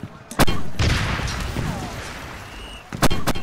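Mortar fire at the Battle of Kapyong during the Korean War: a few heavy booming blasts with rumbling aftermath, a strong blast at the start and two more in close succession near the end.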